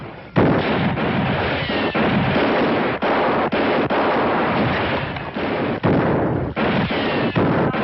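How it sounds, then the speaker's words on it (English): Rapid gunfire in an old Western TV episode, heavy cracking shots firing in a continuous barrage, loud and close with no talking. "Hold your fire. They ain't shooting back."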